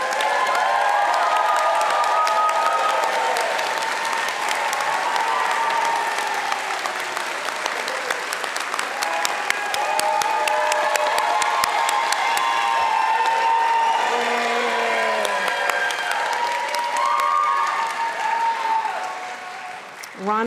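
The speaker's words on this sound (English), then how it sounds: "Will the fall and spring Advanced Studio Critique Program recipients please stand, and we'll give you a round of applause." An audience at the 2025 UC Berkeley Art Practice commencement gives award recipients a long, dense round of applause with scattered cheers and whoops, and voices can be heard under the clapping until it tapers off.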